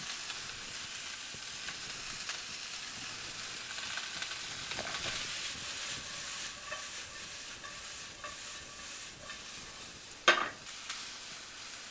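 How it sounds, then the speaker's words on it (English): Onions fry in a pan with salt and pepper, sizzling steadily while being stirred, with occasional scraping and one sharp clink near the end, and no talking. "Now you want to try to cook these onions on a medium-high, little medium heat"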